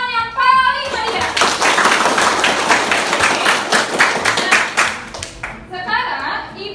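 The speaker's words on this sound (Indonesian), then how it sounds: "Tepuk tangan yang paling meriah." A classroom of students clapping enthusiastically in a history lesson, a dense burst of rhythmic hand claps between a teacher's voice at the start and end.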